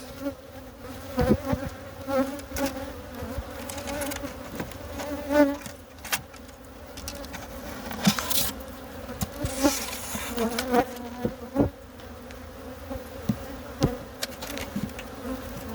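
A steady, dense buzzing of many honeybees around a hive during oxalic acid varroa treatment, close up, with swells as bees fly near, plus occasional knocks and rustles.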